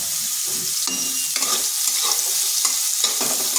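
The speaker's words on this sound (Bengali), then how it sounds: "সয়াবিনগুলোকে একটু ভেজে নিচ্ছি।" Soybeans fry in a pan with salt, a constant loud close sizzle overlaid by repeated scraping stirs of a spatula, with no voices.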